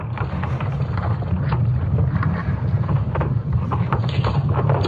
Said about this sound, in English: the European Space Agency was able to use a satellite to capture the sounds of Earth's magnetic field